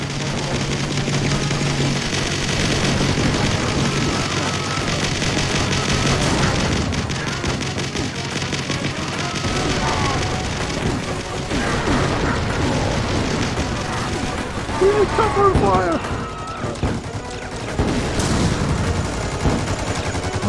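Mortar blasts and minigun fire from toy army men in Toy Box Battle Simulator, a dense, continuous din of bursts, rattling fire and booms that runs the whole time, with a brief voice now and then.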